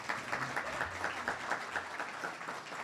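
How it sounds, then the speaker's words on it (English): At an internal medicine graduation, a fairly faint, distant patter of clapping rises as graduates stand one by one, with soft voices murmuring underneath. "please give them a round of applause"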